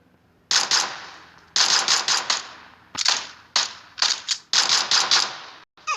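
Gunfire from a pistol in the mobile battle royale game PUBG Mobile: several loud bursts of rapid shots in quick clusters, each cut off sharply, with short gaps between them and no talking.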